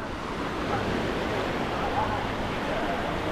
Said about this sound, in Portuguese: Olha aqui a onda batendo uma na outra.